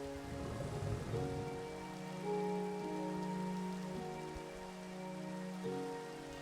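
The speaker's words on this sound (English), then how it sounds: "It rains more often when you don't go to bed, Fanguo says." Steady rain patters in a video game, a soft continuous hiss layered over sustained ambient music tones, with no talking.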